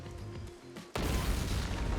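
A bomb blast in the video game Master Detective Archives: Rain Code: quiet tonal game music, then a sudden loud, close boom that leaves a dense rumbling roar.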